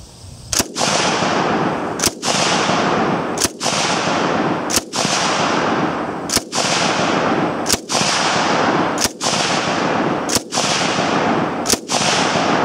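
A ZB-30 light machine gun fires ten single semi-automatic shots at a steady, evenly spaced pace, each a loud sharp crack with a short ringing tail, heard outdoors with no talking.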